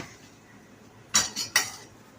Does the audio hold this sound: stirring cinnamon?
yes